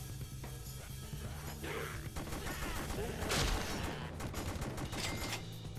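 Rapid gunfire from the rail shooter House of the Dead Overkill, dense overlapping shots with crashing impacts over a constant game soundtrack, loud and continuous throughout.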